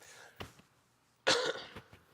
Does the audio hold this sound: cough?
yes